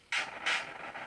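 Shot sound from a 1977 Vectorbeam Space Wars arcade board under repair: two or three short, hissy noise bursts in quick succession, moderately loud, with no talk.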